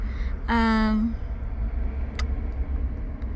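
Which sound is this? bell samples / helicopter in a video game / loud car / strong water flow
loud car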